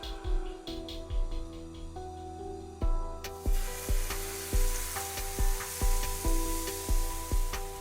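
Batter sizzles and fries in hot sunflower oil in a Teflon pan, a steady crackling hiss overlaid with regular soft knocks and scrapes as the pan is tilted and worked, close and moderately loud.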